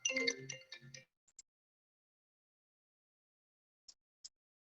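A short electronic ringtone melody plays, then brief high beeps sound twice more after a long silence.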